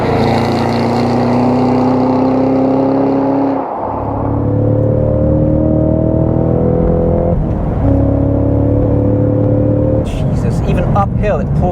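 Cadillac CT5-V Blackwing accelerating hard on a road, a loud sustained engine and exhaust roar that climbs through the gears, with a brief dip at a shift and someone talking over it.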